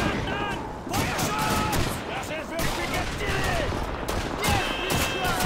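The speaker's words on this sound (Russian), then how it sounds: "Кто по мне стреляет?" Gunfire from Call of Duty 2 rattles in repeated bursts and single cracks throughout, some sharp and close, others more distant, with a voice talking over the shooting.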